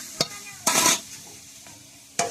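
Food frying gently over low heat in a pan, with soft sizzling broken by a few loud scrapes and stirs of a utensil.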